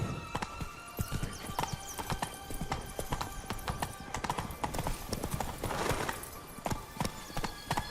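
Horse hooves clip-clop in a rapid, steady gallop through The Witcher 3 video game, loud and close, with a brief whinny and a voice urging the horse on.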